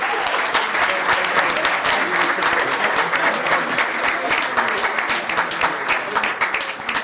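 Loud, sustained applause from an audience at a city council meeting and budget public hearing, dense steady clapping filling the room for about seven seconds and tapering slightly at the end.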